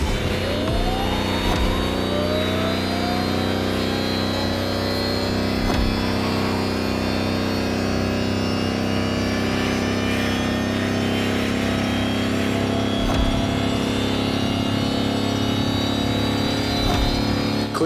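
An electric Lamborghini concept hypercar in The Crew Motorfest drives at speed, a loud, sustained, rising whine of motor and road noise with no pauses.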